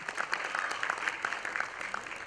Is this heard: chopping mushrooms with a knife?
no